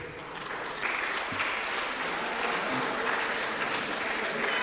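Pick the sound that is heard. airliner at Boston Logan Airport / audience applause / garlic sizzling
audience applause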